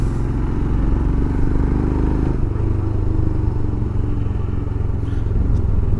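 A Royal Enfield Himalayan BS6 motorcycle rides a winding mountain road near Gangtok, its engine a loud, steady close-up drone mixed with wind rush throughout.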